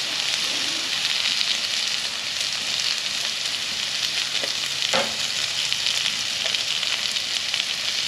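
Potatoes fry on a Camp Chef four-burner griddle with a steady, close sizzle that holds through the whole stretch, broken by a few brief scrape or stir clicks near the middle.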